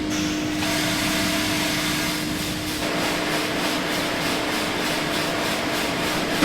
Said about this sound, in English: I'm going to load the coffee into the hopper